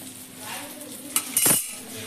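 Food is flipped in an oiled pan, giving a couple of quick metallic clinks and scrapes of a utensil against the pan over a faint background sizzle.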